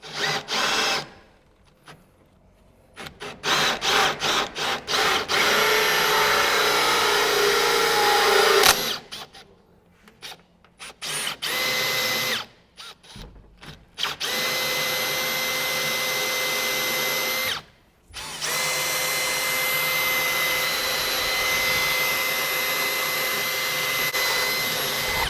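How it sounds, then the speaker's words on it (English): A power drill bores a 25mm hole through wood for 20mm conduit during an industrial electrical installation, whining loud and steady in several long bursts separated by brief pauses. "now you're going to drill a 25mm because we want to put a 20mm conduit through it"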